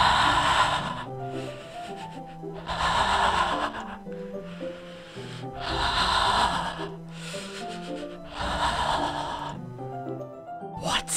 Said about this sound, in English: It sounds like heavy breathing.